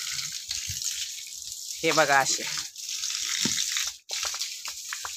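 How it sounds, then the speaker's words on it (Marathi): Water pours onto garden plants during a morning watering, a soft gushing and splashing that runs under a brief spoken phrase. "त्याच्यामुळं झाडांना मी पाणी घालत असते रोज सकाळ सकाळ."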